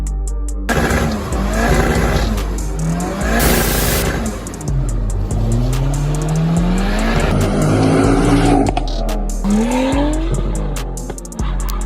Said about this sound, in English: let's turn that key of the car this time. Let's get this car running